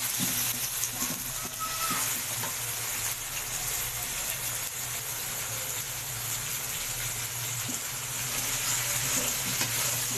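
Chicken pieces dropped into frying onions in a karahi give off a loud, continuous sizzle with bright hiss, steady throughout and close up, with occasional stirring scrapes and no voices.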